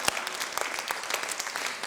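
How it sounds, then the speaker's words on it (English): An audience at a press conference applauds, a dense wash of many hands clapping steadily at moderate loudness throughout. "If you'll just stand up and applaud yourselves, I really would appreciate it."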